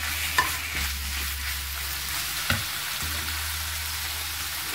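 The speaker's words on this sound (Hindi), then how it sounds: "थोड़ा सा तेल लेंगे हम, इसमें हम चिकन डालेंगे।" Chicken fries in a little oil in a pan as a pizza topping, a close, steady sizzle over a low hum with two brief clinks of a stirring utensil, no one speaking.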